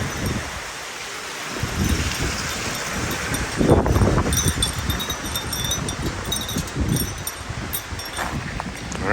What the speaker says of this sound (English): Oh gosh, it's getting windy again.